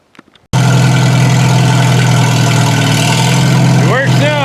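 A snow plow vehicle low on hydraulic fluid starts up and settles into a steady, loud, close idle with a low throbbing drone that runs continuously, with a brief higher whine near the end.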